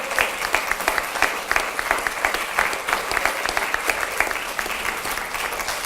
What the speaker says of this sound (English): Let's give Ms. Sims another round of applause